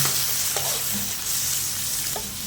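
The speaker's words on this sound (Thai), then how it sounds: "กระเทียมเหลืองแล้วก็ ใส่กุ้งลงไปเลยนะคะ" Shrimp hits a hot pan of golden garlic and sizzles steadily while being stirred, with occasional spatula scrapes, close and continuous with no talking.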